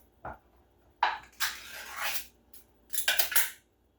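A knife chopping through hot and spicy and bacon Spam on a board, with a few distinct clacking cuts and scraping strokes in irregular bursts, close and fairly loud, with no talk.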